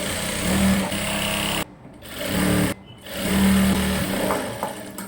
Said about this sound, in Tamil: இதோட உள் பக்கத்தில் லைனிங்கை வச்சு சுற்றி தையல் போட போகிறோம்